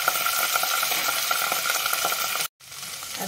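Ginger-garlic paste frying in hot oil with browned onions, a loud, close, continuous sizzle with a bit of stirring, then a brief pause before the sizzle resumes.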